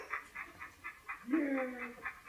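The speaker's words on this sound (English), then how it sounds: "And Tristan, miniature dachshund, and the boss of the family" A golden retriever and a miniature dachshund give a short whimpering whine indoors, heard briefly beneath someone speaking.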